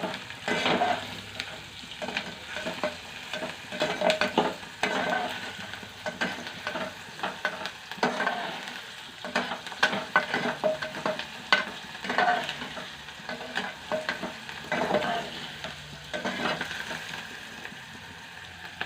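Onions frying in a pan and being stirred, a close sizzle under repeated scraping strokes of a spoon that come in uneven bursts, with no talking.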